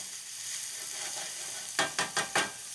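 Thickly sliced garlic and red onions sizzle in a pan for shrimp amatriciana, a steady close frying hiss followed by four quick scraping stirs near the end; no talking.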